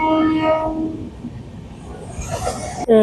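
A train horn sounds briefly at the start, followed by a low rumbling hum of the Tamralipta Express at a platform and a sharp clunk near the end.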